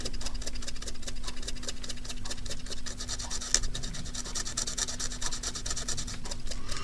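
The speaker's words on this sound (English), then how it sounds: "Let's scrub that off." Paint being scrubbed off a model Tiger tank, a steady close rasping scratch with fast repetitive strokes throughout, no voices.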